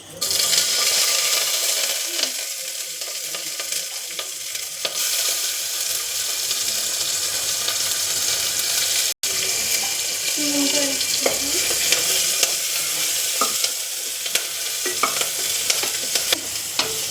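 Green chillies, garlic paste and fenugreek seeds fry in hot coconut oil in a pressure cooker, hissing and sputtering continuously, with frequent stirring scrapes and a brief cut partway through.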